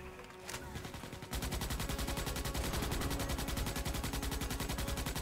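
Rapid, continuous automatic gunfire in the Starship Troopers: Extermination video game rattles loudly and evenly after a brief quieter lead-in, with no voices over it.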